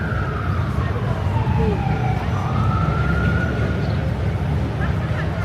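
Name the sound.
emergency vehicle siren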